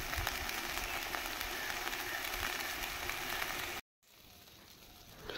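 Ground turmeric, salt and cumin sizzling in hot oil in a pan in a village kitchen, a steady close frying hiss that cuts off abruptly, leaving a faint quieter background.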